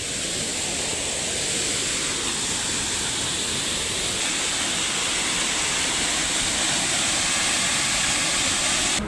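Heavy monsoon rain pours water into a farm well, a steady loud broadband rush that runs unbroken from start to finish with no voices over it.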